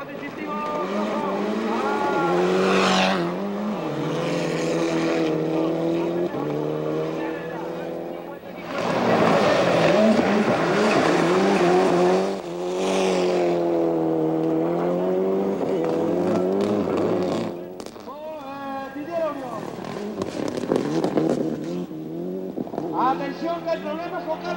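Rally cars, Toyota Celica ST205s, race head to head at the 1996 Race of Champions. Engines rise and fall sharply through gear changes in loud, revving bursts with brief gaps, and an excited commentator talks over them.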